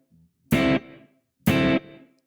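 Electric guitar through a Strymon BigSky reverb pedal with decay set to 500 milliseconds: two short strummed chords, each cut off quickly and followed by a brief tail that fades within a fraction of a second.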